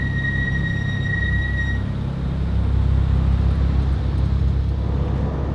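A BMW F87 M2 Clubsport drives around the Donington race track, its engine giving a steady low drone heard from inside the car, with a faint high whine early on.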